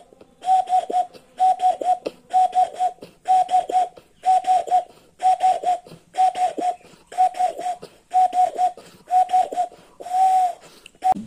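A person whistles in imitation of a male dove's courtship call, about a dozen evenly spaced warbling phrases repeated close and clear with short pauses between.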